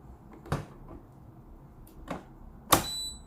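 A part clicks into place on a De'Longhi coffee machine: a few sharp plastic clacks and knocks, the last one loudest with a brief metallic ring, close and alone.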